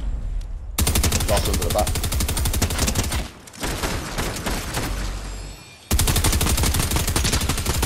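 Video game gunfire rattles in long, rapid, loud automatic bursts, broken by brief pauses, with players talking over the shooting.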